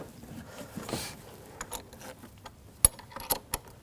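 A nut is tightened on the front bumper cover of a 2006-2009 Audi S4 with a ratchet, giving a short run of close, quick metallic clicks, the sharpest near the end, over faint handling noise.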